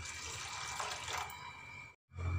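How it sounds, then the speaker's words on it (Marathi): Flattened rice (poha) being rinsed in a bowl of water for baby food, a steady watery swish and trickle close by, with a brief cut to silence before the splashing resumes. "आता हे स्वच्छ धुवून घेते मी 2 ते 3 पाण्याने."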